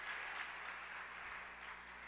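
A congregation claps for the Lord during a Portuguese-language sermon on the book of Isaiah, a brief, faint patter of applause heard from a distance.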